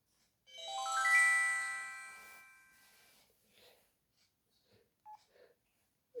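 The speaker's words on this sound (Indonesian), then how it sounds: "Kita lihat startupnya HP Friend GTC 300." A Mobile-8 ZTE Fren GTC 300 mobile phone plays its startup jingle, a bright electronic tone chord that swells and then fades. A few faint clicks follow in the quiet that comes after.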